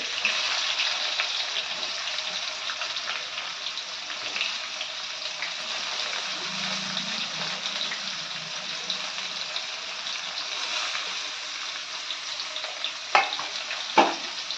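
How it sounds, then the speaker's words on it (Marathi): Finely chopped garlic and onion fry in a hot pan for dal khichdi, a steady close hiss of sizzling oil running throughout with a couple of sharp clinks near the end. "हा बारीक चिरलेला लसूण तो घालून घेते त्याच्यानंतर हा बारीक चिरलेला कांदा आहे तोही भाजून घेतलेले"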